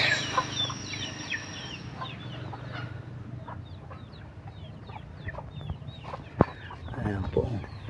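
Chickens cluck and chirp repeatedly at moderate distance over an outdoor background, with a sharp knock partway through and a voice briefly nearby.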